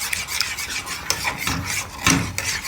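A homemade skin cream mixture is stirred in a bowl, giving a close, rhythmic scraping and rubbing with uneven strokes and no voices.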